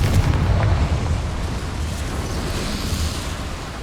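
A deep, sustained rumbling blast from the Confringo explosion spell in the video game Hogwarts Legacy, loud and boomy at first and then settling into a steady roar, with no talking.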